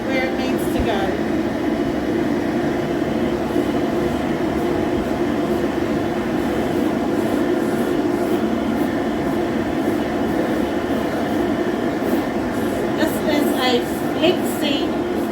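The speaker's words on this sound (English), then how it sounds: "Make sure you point the hairdryer where it needs to go." A hairdryer blows steadily while a dog is brushed and dried after a bath, a constant close whooshing roar with a few faint clicks and rustles near the end.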